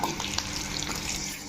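Crushed garlic cloves along with mustard, fenugreek and cumin seeds fry in hot oil for a sambar tempering, giving a steady close, bright sizzle with small crackles and a few soft pops throughout.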